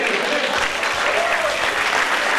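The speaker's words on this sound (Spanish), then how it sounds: "Si ese es un aplauso, déselo para el Señor." Church congregation applauding during a sermon, a full continuous patter of many hands clapping at steady volume throughout, with faint murmured voices mixed in.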